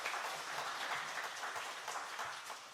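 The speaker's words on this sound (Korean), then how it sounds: "우리 다시 한번 뜨거운 박수 해주시기 바랍니다." A church congregation at an anniversary ordination and retirement service gives warm, continuous applause, a steady wash of many hands clapping at moderate distance with no talking over it.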